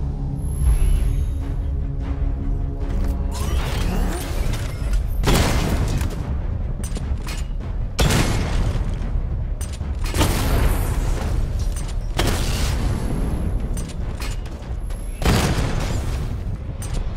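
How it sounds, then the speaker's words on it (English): Missile barrage explosions from Batman: Arkham Knight gameplay, a loud dense series of heavy booms and blasts repeating every couple of seconds with rumbling low end and crackling debris between impacts. "Destroy targets to charge up weapon energy and activate missile barrage."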